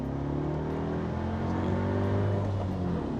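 A Mercedes R172 SLK roadster engine pulls hard through a full gear. Its droning tone climbs steadily in pitch from inside the cabin, with a constant hum of road and wind beneath it.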